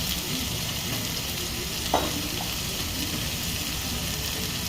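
Green chillies fry in a pan of prawns and taro leaves, a steady close hiss with a brief scrape of stirring near the middle.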